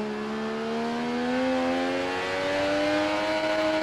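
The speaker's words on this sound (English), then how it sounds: "Oh, hit the rev limiter." A racing motorcycle in RIDE 3 screams at high revs near its limiter, a steady buzzing engine tone with layered harmonics climbing gradually and holding, loud and continuous with no speech.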